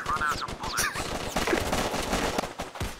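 Rapid gunfire bursts from blind firing in the VR shooter Crisis VRigade 2, loud and dense over about three seconds, with a voice briefly heard among the shots.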